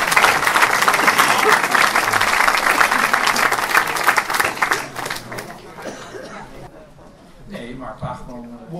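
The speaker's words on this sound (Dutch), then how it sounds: "heel groot applaus voor Freek de Jonge en Arjen Peters." A big theater audience applauds the performers Freek de Jonge and Arjen Peters with loud, dense clapping for about five seconds. It then thins out into scattered claps, murmuring and a little laughter.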